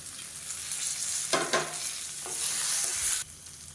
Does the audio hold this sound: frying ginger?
yes